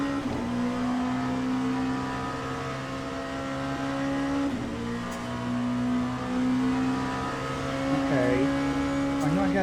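An LMP2 prototype race car in the sim racing game Le Mans Ultimate drones steadily at high revs, with pitch rising and dipping through gear changes and braking, up close and continuous.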